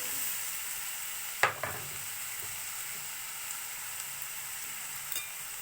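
Chayote and ground meat sauté in a pan, giving a steady, close sizzle with a clank of a utensil against the pan near the start and a few small taps later.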